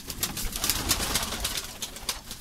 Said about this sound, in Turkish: Burada çok güzel oyun kuşlarımız var.